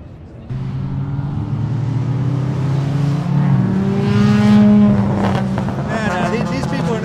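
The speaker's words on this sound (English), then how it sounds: "We just saw a Cortina fly by." A Ford Cortina speeds past on the track at a Sydney car show, its engine note climbing and swelling loudly as it passes close by, then easing off.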